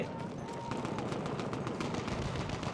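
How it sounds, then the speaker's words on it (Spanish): Battlefield 1 combat on the Frontera del Imperio conquest map brings a dense, continuous stream of gunfire and rapid shots layered together, quiet and steady throughout, with a voice speaking over it. "Están disparándose aquí"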